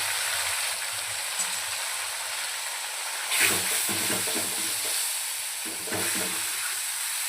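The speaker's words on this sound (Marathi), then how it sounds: "तेल छान गरम झाले, त्यामध्ये लाल मिरची, हळद आणि आपण जी पेस्ट काढली ती ॲड करूया." Red chili powder, turmeric and a ground masala paste fry in hot oil for a dhaba-style drumstick curry, giving a steady close sizzle with soft stirring scrapes that swell briefly twice.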